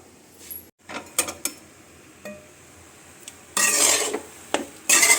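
Puffed rice is stirred in a pan with a spoon, making intermittent scraping and rattling strokes with brief creaks, and bursts of louder dry rustling toward the end.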